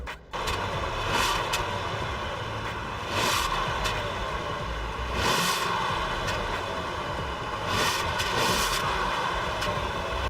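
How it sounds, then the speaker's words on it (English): A 2017 Bentley Mulsanne's 6.75-liter V8 runs steadily with a loud, broadband exhaust rumble that swells into several brief revving surges. It sounds close and continuous, with no talking. "let's listen to the exhaust note from the 6 3/4 liter V8"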